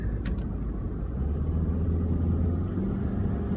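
A truck rumbles steadily along Interstate 26 near Charleston, a low, continuous engine drone that swells slightly as it passes, with a couple of brief clicks near the start.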